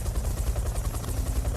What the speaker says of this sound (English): Suddenly they hear a helicopter passing south of Sorna.